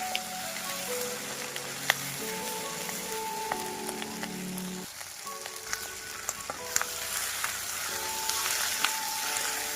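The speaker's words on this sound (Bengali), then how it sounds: "মাছের তেলটা দেওয়ার পর কিন্তু আমরা হচ্ছে ভেজে নিব।" Fish oil fries in a pan for a fish and bean-seed dish, a continuous crackling sizzle with small pops throughout. It sits over faint steady background tones, and no one speaks.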